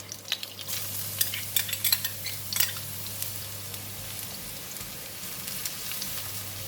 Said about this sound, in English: We're just going to fry the ginger for a bit, just slightly coating it with oil